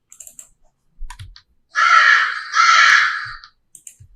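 Two drawn-out crow caws, each about a second long, sound loud and close, with faint mouse clicks and keyboard taps from video editing before and after.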